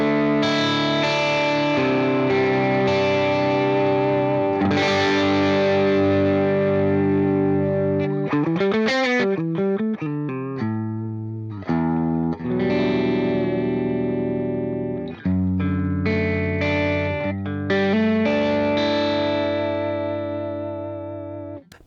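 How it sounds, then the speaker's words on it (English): Distorted electric guitar through a Headrush MX5 modeler on its Tangerine 30 amp model, an Orange-style amp with gain raised; loud, close riffing with sustained chords, bends and choppy phrases, playing alone without talk. "This one's called the Tangerine 30, which is going to be like an orange type amp"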